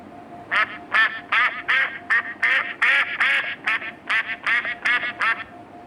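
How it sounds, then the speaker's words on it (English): A duck quacks rapidly and repeatedly, a loud, nasal run of about a dozen quacks close by. "Duck."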